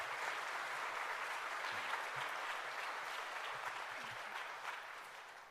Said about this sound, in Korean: 저 박수로 한번 환영하시죠.